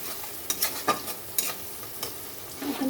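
Spice masala for a Bhola fish curry sizzles and fries in a pan, with soft irregular clinks and scrapes of stirring, close and fairly quiet.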